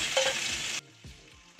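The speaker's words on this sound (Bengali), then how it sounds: "দেখুন চিংড়ি মাছগুলো আমার ভাজা ভাজা হয়ে গেছে।" Shrimp sizzle loudly in hot oil for under a second, then the frying cuts away to near quiet with a few soft knocks.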